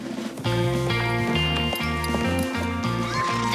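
Horses move over open ground with soft, scattered hoof sounds. A steady musical score plays loudly over them and all but buries the hooves.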